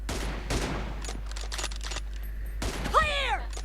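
Gunfire in the battle royale game PUBG during a 1v1 M24 match, a few sharp bursts of shots over a steady low hum, followed by a short whistling sweep near the end.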